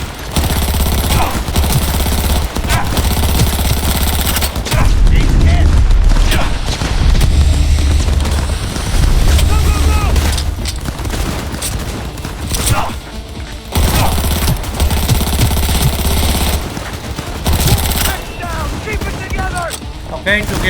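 Heavy gunfire in a Cyberpunk 2077 shootout, with rapid automatic bursts, booming shots and thuds crowding together loudly over a low rumble, a voice briefly talking among the shots.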